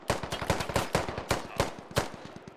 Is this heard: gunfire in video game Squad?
yes